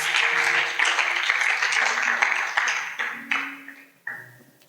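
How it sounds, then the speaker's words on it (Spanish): A church congregation at a Spanish-language worship service breaks into applause, a dense burst of clapping that thins out and fades in waves, with a few scattered claps trailing at the end. "Denle un aplauso a la presencia de Dios si está entendiendo."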